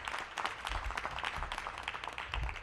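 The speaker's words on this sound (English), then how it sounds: "we want to give Debbie acknowledgement and a big round of applause" Audience applause at a mayoral task force launch for the Gallery Place/Chinatown neighborhood, a dense, even patter of many hands clapping at moderate level, with no speech over it.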